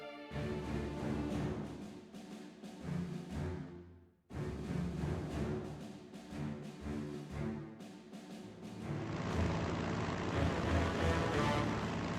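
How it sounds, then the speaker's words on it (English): Bomber aircraft striking an enemy-held seaport in the strategy game Strategic Mind: Blitzkrieg: a dense, loud engine drone with heavy low rumble and layered impacts, briefly cutting out before resuming and swelling into a broad roaring wash at the end. "Select the bomber and attack the enemy unit occupying the seaport."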